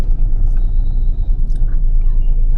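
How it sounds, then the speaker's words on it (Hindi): Steady road traffic rumbles through Shimla in the early evening, a dense low drone of passing cars and engines that stays continuous and fairly close, with faint murmuring beneath it. "and here's the traffic action of Shimla"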